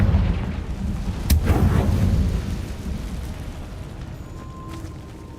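The Confringo fire spell in Hogwarts Legacy goes off as a sharp, loud crack followed by a heavy rolling boom that slowly fades into a low rumble, with no voices over it.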